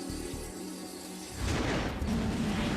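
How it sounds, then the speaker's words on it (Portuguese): Jet engine fan disc weighing 170 kilograms shattering in flight on United Airlines 232, a sudden loud boom that breaks in partway through and becomes a sustained roaring rumble. "O ruído alto que tripulantes e passageiros ouvem é o disco de 170 quilos se partindo."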